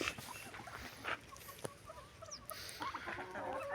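Close, intermittent clucking and soft chirps from a turkey hen that is not yet laying, set against quiet farmyard background noise.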